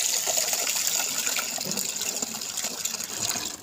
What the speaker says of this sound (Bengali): ঘর মোছা জল নিলাম